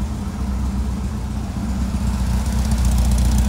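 An old Porsche 356 Speedster replica engine idles steadily with a low, throbbing rumble, close by and alone, with no talking.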